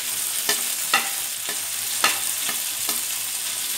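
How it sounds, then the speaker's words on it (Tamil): Tomato, green chillies and curry leaves frying in a pan for a Kovakkai (ivy gourd) masala, a steady close sizzle with several sharp stirring scrapes spaced about half a second apart. "அடுத்தாப்புல இந்த தக்காளி, இந்த தக்காளி பழம், ரெண்டு பச்சை மிளகாய், இந்த கருவேப்பிலையும் போட்டுக்கிறோம்"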